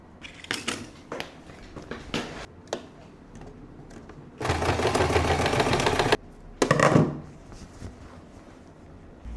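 Scattered handling clicks and knocks lead into a sustained, even burst of sewing machine stitching along a garment's shoulder seams and facing, then a shorter second run, close by.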